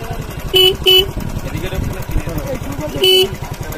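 A motorcycle rides past on a street, its engine drone running throughout with three short horn toots breaking in, fairly close and loud.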